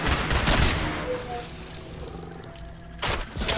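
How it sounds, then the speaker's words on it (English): Gunfire from a pistol in Fallout 76, a sharp loud burst at the start and another crack near the end, with a quieter ambient stretch between. "I know I wasted a shot there"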